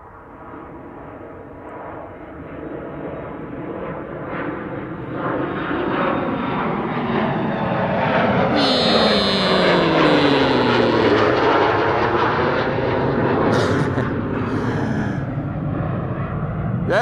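KLM airplane taking off from Amsterdam Schiphol for Inverness, jet engine roar building from moderate to loud and sustained, with sweeping tones as it climbs away.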